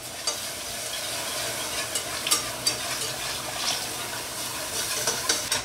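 Milk being stirred a little at a time into a browned flour roux for a copycat Panera mac and cheese, heard as soft, irregular scraping and swishing with a light sizzle, close and fairly quiet, no voices.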